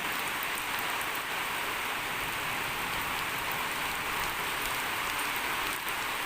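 Light, steady rain falls on surfaces outdoors after a windy, dusty spell, a dense even hiss with faint scattered drops running unbroken and fairly close throughout, with no voices.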